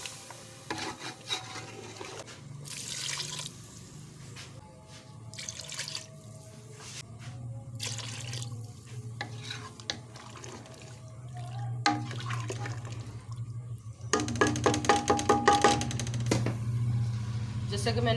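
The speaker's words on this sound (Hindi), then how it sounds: "अब इसमें हम पानी डाल देंगे।" Water poured into a cooking pot of browned chicken legs (paaye) for a broth, a steady watery rush with splashing and stirring clatter, growing louder toward the end, with a voice speaking at times.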